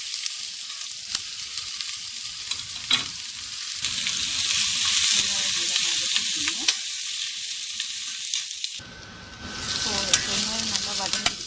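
Onions frying and sizzling in a hot pan with dried red chillies, early in cooking a quick chicken dish; a steady, close, continuous hiss with occasional stirring clatter, briefly dropping before resuming louder.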